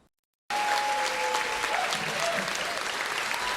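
Studio audience applause on a radio show bursts in after a brief silence, a full, even clatter of many hands that continues steadily to the end.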